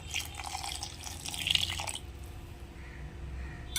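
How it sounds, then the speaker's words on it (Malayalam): Water splashes and trickles into a grinder jar holding curry ingredients for about two seconds, then fades to quiet dripping. "ഇനി നമുക്ക് ഇതിലേക്ക് കുറച്ച് വെള്ളം ഒഴിച്ചു കൊടുത്തിട്ട്"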